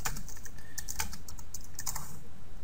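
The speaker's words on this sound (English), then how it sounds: "All you need to do is type something like" Close, steady typing on a computer keyboard, with quick clustered key clicks in short bursts and no talking.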